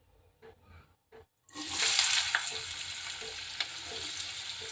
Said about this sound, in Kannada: ಈರುಳ್ಳಿ ಎಣ್ಣೆಯಲ್ಲಿ ಬೆಂದಿದೆ